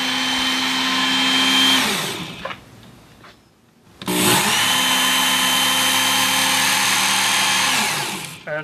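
A Work Sharp belt knife sharpener runs with a steady motor whine, winds down briefly to near silence, then spins back up and runs steadily again before slowing at the end.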